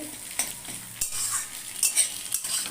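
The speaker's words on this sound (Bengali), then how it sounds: "চিংড়ি মাছ আর ডিমটা ভেজে নিচ্ছি" Prawns and egg frying in a pan for egg rice, a steady bright sizzle with close metal scrapes and spatula stirs, sharp clinks near one, two and two-and-a-half seconds, no voices.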